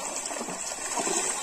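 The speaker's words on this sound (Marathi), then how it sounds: "खरकट मरकट पाणी झाडांना जाते" Used household waste water rushes steadily toward the trees outdoors in a close, continuous gushing flow with no pauses.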